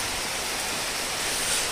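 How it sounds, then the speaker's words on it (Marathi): Steady rain falls over a creek in the Konkan during a fishing trip, a dense, even hiss that holds at a constant level for the whole stretch, with no voices. "फायनली असा पाऊस पडायला लागलाय मस्तपैकी"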